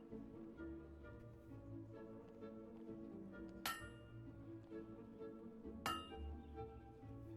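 Hammer strikes ring on metal in a blacksmith forging minigame in Fable 2, two sharp clinking blows several seconds apart over a quiet, low ambient drone.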